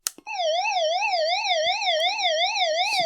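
SOS alarm of a Prunus J-905 weather emergency radio, an electronic siren rapidly warbling up and down in even cycles, close and fairly loud, starting after a short click.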